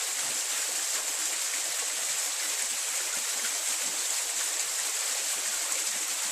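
Water flows steadily during a full-moon water blessing ritual, an even, continuous hiss of streaming water with no breaks or talk, moderately close.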